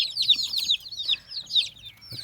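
Fourteen-day-old Berasa breed chicks peep in quick, high, repeated bursts, close and fairly loud with brief pauses between flurries.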